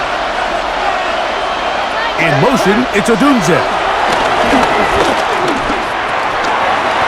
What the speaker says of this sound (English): The crowd cranking it up another notch